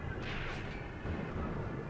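Distant, rumbling gunfire from tanks, including T-26s, giving fire support in the World War II tactics game Graviteam Tactics set at Kharkov in 1942; a muffled, continuous boom rolls on for two seconds.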